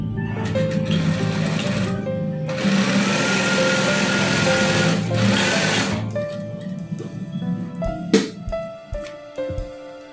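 A sewing machine stitches a child's trouser pocket in one continuous run of about six seconds, followed by scattered handling clicks and knocks.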